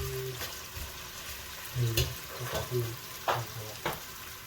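Onion and garlic sautéing in a pan before chicken goes in, a low sizzle under repeated scraping and clattering stirs, close by and fairly quiet.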